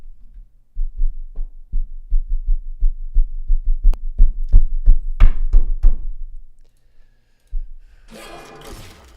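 A video game's heartbeat sound effect, played as a damage cue: a steady run of low thumping beats, close and loud, repeating for several seconds before stopping, followed by a brief burst of hiss.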